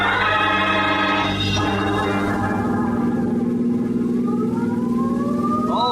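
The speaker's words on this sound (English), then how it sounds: "Sirens included" A police siren wails loudly and steadily, its tone sliding up and down, with an engine hum underneath and no voices.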